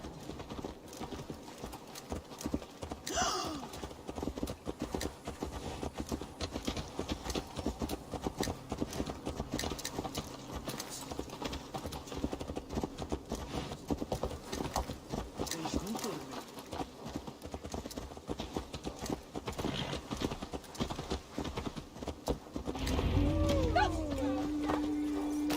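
Horse hooves trot in a steady clip-clop rhythm throughout gameplay in Assassin's Creed Valhalla, mid-level and continuous, with in-game voices talking over the steps.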